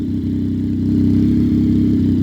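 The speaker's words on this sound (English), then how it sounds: "tracer stand out and sound the way they should, in my opinion, this is the exhaust you want. Austin Racing." Yamaha Tracer 900 motorcycle fitted with an Austin Racing aftermarket exhaust, idling close by with a steady, deep throbbing rumble that swells slightly partway through, with no talking.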